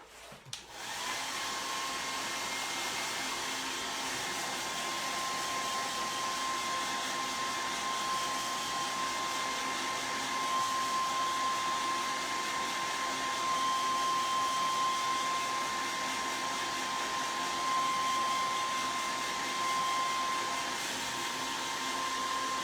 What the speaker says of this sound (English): So I'm going to hit these with the hairdryer.